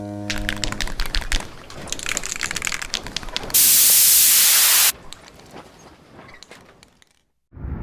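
An aerosol spray can lets out a loud, steady hiss for about a second and a half, standing out sharply after a stretch of busier background noise, then cutting off abruptly.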